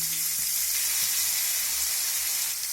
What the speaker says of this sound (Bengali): এখন এই তেলের মধ্যে ফুলকপিগুলোকে দিয়ে ভেজে নেব